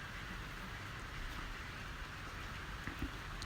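Steady rain falls outdoors near a wooden bridge, a dense, even hiss that holds at the same level throughout, with no voices.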